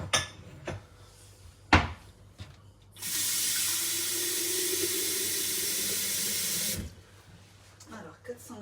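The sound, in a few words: water running from a tap for cooking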